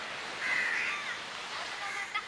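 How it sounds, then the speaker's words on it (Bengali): Crows caw near a sandy beach where two rivers meet the sea on the Karnataka coast near Udupi, a few harsh calls at moderate distance over a steady wash of surf and wind. "পাখিগুলোর কাছে যাচ্ছি আমি"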